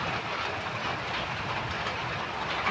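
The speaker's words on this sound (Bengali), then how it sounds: "আবার বৃষ্টি নামছে দেখুন।" Rain from a passing storm pours down outdoors as a dense, steady broadband wash of noise, loud and unbroken, with no voices.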